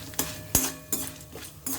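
Mustard seeds, cumin and dried chilli tempering in hot oil, with four sharp bursts of crackling spatter over a steady low sizzle, close and fairly loud, with no voices.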